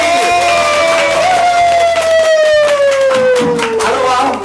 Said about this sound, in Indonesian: kita berikan tepuk tangan buat Bang Ruli